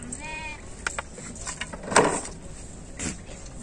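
A goat bleats briefly near the start, a short wavering cry amid outdoor rustling and clatter, from a herd brought from Baramati taluka to Shirur taluka in Pune district in search of water and fodder.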